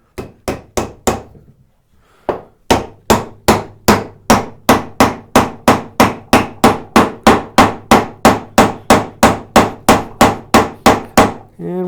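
A hammer drives a wooden drawbore pin into a desk leg in a workshop: a few sharp blows, a short pause, then a long steady run of loud, evenly spaced strikes close by.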